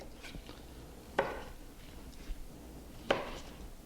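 A kitchen knife chopping broccoli into small florets on a board, with two sharp, fairly quiet chops spaced well apart over a low background hush.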